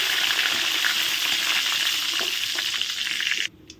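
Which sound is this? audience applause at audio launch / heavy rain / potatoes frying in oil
potatoes frying in oil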